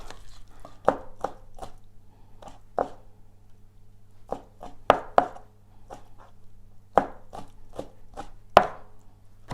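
Wonton filling ingredients being chopped with a knife on a cutting board, about fifteen sharp, irregular chops coming in quick bursts with pauses between, close and fairly quiet over a faint low hum.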